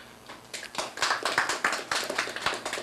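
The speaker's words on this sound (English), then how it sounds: "I want you to give a big round of applause to CCT" Scattered clapping from a modest audience at a festival press conference, distinct individual claps in an uneven rhythm, fairly near and moderately quiet.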